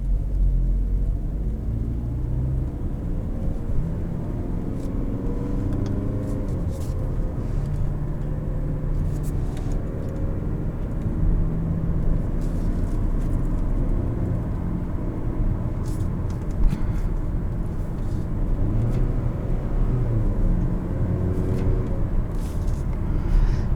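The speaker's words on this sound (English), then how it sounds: "And the second you hit the gas," A 2020 Mazda CX-30 pulls away from a traffic light, its engine a steady, moderately loud rumble that builds gently under road and cabin noise, with no talk.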